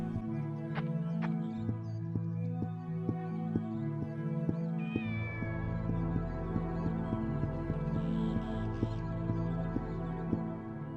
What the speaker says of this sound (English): you can pet the cat, you can look at the cat